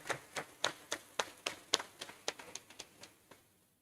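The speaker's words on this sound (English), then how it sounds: "So I want to give them a round of applause." A small group at a graduation ceremony gives a round of applause: sharp, distinct hand claps in a brisk, uneven rhythm that thin out and fade to silence within a few seconds.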